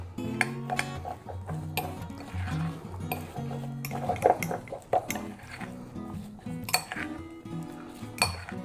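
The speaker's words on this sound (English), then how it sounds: "Again, just want to mix it until it just comes together." Pie dough for a smoked pumpkin pie is mixed in a bowl. A utensil clinks and scrapes against the bowl in a quick, uneven rhythm, with close kitchen clatter throughout.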